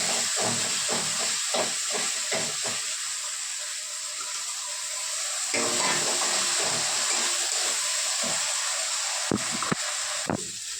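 Ginger paste hitting hot oil while boal fish oil jhal cooks at home, sizzling in a loud, steady hiss with a burst of crackles and pops at the start and a few sharp spits near the end.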